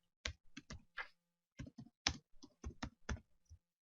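Computer keyboard typing while writing HTML: a dozen or so crisp, close key clicks in short irregular bursts, quiet, with no talking.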